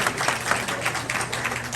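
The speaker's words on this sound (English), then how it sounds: "Let's get Senator John Lew a wonderful round of applause" Crowd at a Pakistani American convention in New York applauding Senator John Lew, a dense, steady wash of many hands clapping at moderate loudness with no voices over it.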